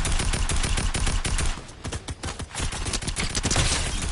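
Dense rapid gunfire from a Fortnite match, rattling bursts that run nearly the whole time with a short lull in the middle, loud and close, no talking.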